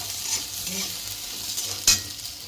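Okra (bhindi) fries in a pan, a soft, continuous sizzle over a low background hum, with one sharp utensil clatter toward the end.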